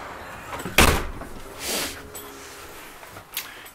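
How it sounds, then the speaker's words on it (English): A single door of a Jayco Melbourne 24L caravan shuts with a sharp thud, followed by softer rustling and a faint click, close by in a quiet room. "Close this door back up."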